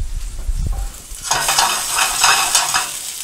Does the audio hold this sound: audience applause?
no